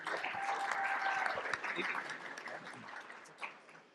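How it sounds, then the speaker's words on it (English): Quiet audience applause at a morning legislators' event on income tax, a soft steady clatter of hands that fades toward the end, with a voice speaking faintly over the start. "So big round of applause for Stephanie and her team."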